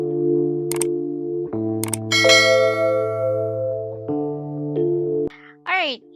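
Notification bell sound effect, a series of bright electronic chimes and dings with sustained tones, ending in a short sweeping tone.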